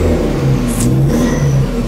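A Ford truck fitted with a full exhaust revs hard up close, a loud, steady engine roar with a low droning tone that swells and dips slightly through each blip of the throttle, with no voices over it.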